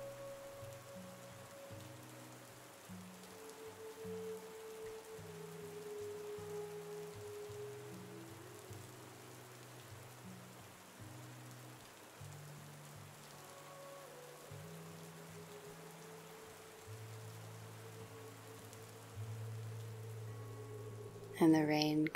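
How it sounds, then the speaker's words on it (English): Soft, steady rain falls on surfaces as a faint wash of patter, set beneath a low sustained musical drone, with no talk. "And the rain comes to an end."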